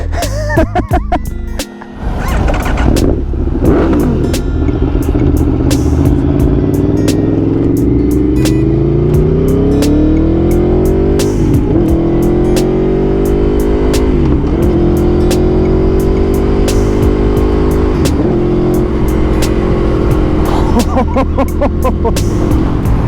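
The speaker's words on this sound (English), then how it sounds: "time for the first start of the Aprilia" An Aprilia Tuono 1100 V4 motorcycle engine starts and settles into a loud, close idle, with repeated rising and falling revs and sharp intake pops over a constant mechanical rumble.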